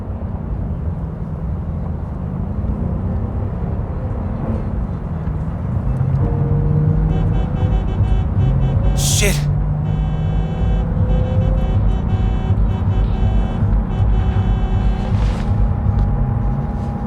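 A car drives in Cyberpunk 2077, giving a steady loud engine drone and road rumble that swells slightly partway through, with a brief sharp tone near the middle and no talking.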